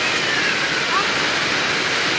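Rain pours steadily as children play outdoors in it, a dense, even hiss with no breaks, close and fairly loud.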